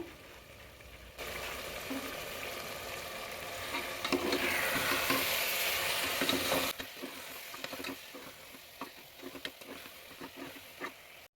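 Masala sizzling and being stirred in a pan as washed coriander and mint leaves go in, for hotel-style tomato bath; a loud, steady frying hiss with scraping stirs, dropping to sparser sizzles and clinks near the end.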